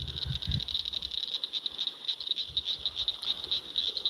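Frogs by a river at evening keep up a dense, steady high-pitched trilling chorus, even and continuous, with low rumbling handling noise near the start and no talking.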